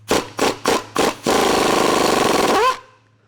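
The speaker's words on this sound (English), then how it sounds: "take your impact and your 10mm socket and an extension and just put it up over those transmission lines" A pneumatic impact wrench with a 10mm socket and extension loosening small transmission-line bolts on a 2019+ Chevy 1500, four short hammering bursts followed by one longer rattling run that winds down and stops.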